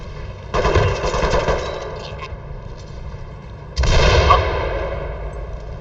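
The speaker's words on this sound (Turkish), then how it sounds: "Abi vuruyor bir yerden." Gunfire in the tactical shooter Ready Or Not comes in two loud bursts of rapid automatic fire, the second starting a few seconds after the first, with quieter game ambience in between and no speech.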